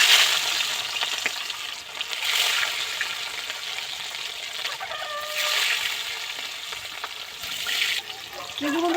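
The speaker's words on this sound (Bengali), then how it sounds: "এবার আমি মাছগুলো ভেজে নেব।" Pieces of rohu fish fry in well-heated oil for a fish curry, a loud, steady sizzle close by with surging bursts of crackle and spatter and no one talking.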